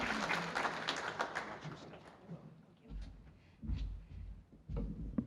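Audience applause at a 2016 small business awards event, brisk clapping at the start that thins out quickly, followed by quieter thumps and handling noises as a voice begins.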